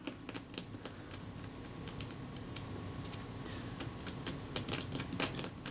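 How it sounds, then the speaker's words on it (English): Fine scraping clicks from a scalpel blade working deposits off a Kodak Retina IIIC camera near cracked leatherette, a close, steady run of small quiet ticks and scratches with no talking. "I'm scraping this carefully with a scalpel blade to crack away those deposits"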